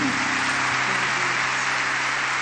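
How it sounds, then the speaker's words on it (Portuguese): A church congregation applauds Pastor Helena Tannure, a steady wash of clapping holding at an even level from start to finish with no pauses. "Vamos aplaudir a vida da Helena."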